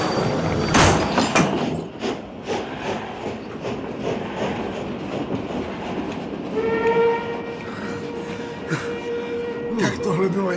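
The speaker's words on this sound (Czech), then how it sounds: "Ještě, že ten vlak přijel." Passenger train pulling into a station, wheels clattering on the rails and brakes squealing as it slows, with a horn or whistle tone near the end, loud and close, with voices in the background.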